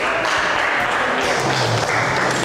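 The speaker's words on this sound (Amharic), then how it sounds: "እስቲ አጨብጭቡለት" Applause from a group of children, with many hands clapping quickly and continuously at close range for a couple of seconds.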